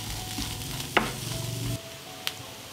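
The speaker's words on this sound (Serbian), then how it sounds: "Na zagrejano ulje dodajem luk, beli luk i sve ću propržiti dok luk ne omekša" Chopped onion and garlic sizzle steadily in hot oil in a pan and are stirred, with a couple of sharp utensil scrapes and a softer crackle once the stirring stops.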